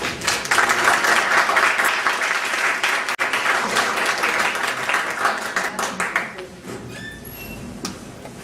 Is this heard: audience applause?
yes